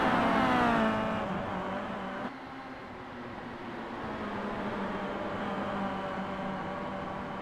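Kia Optima race car at Lime Rock, engine drone heard from a distance, a steady droning tone that eases off after a louder opening second, faint and continuous.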